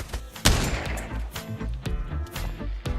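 A single sharp, loud gunshot from the Pavlov VR shooter game cracks early on, surrounded by quieter thuds, clicks and movement noise in a game scene.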